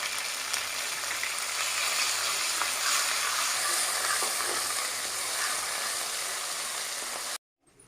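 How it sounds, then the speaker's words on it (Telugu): Ginger garlic paste sizzles in hot oil in a pan, a bright continuous hiss close up and steady throughout before a sudden stop. "ఆయిల్ బాగా వేడైన తర్వాత అల్లం వెల్లుల్లి పేస్ట్ వేసుకోవాలి"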